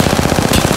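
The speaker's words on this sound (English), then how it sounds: "Shots fired." Rapid automatic gunfire in Apex Legends, a quick burst of about a dozen closely spaced shots, loud and near, lasting under a second with no talk.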